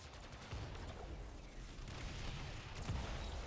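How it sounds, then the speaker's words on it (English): Continuous gunfire in Warframe aimed at the Teralyst, a dense, steady rumble of shots with a couple of sharper reports, heard at game level without voices. "shooting through the shield for increased damage"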